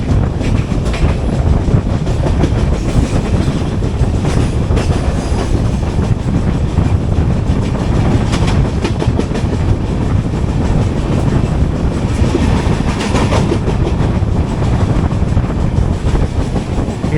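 The 22113 Kochuveli Superfast Express runs along the Konkan Railway, a loud, steady rumble of wheels on track with rhythmic clatter and wind rush, heard from on board.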